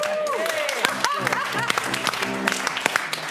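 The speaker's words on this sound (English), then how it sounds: "I love forcing applause on the audience." Crowd clapping at a live Saturday night show, a dense patter of hands with some voices and cheering layered over it, sustained at a moderate level.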